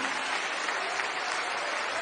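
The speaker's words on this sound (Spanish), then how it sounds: "Dale un aplauso de veras." Steady, dense applause from a congregation fills a church, a continuous wash of many hands clapping with no pauses.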